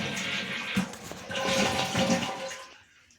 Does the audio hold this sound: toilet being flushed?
yes